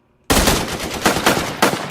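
Rapid machine gun fire in a war battle scene staged with plastic army men, a loud burst starting abruptly after a brief silence and continuing in dense rattling volleys with a few louder surges.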